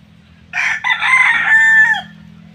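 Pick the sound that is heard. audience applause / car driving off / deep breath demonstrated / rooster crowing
rooster crowing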